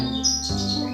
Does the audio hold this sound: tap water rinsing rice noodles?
no